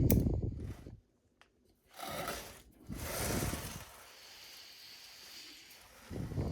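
Crepe myrtle branches being pruned, with a few close rustling, scraping cutting bursts separated by short pauses.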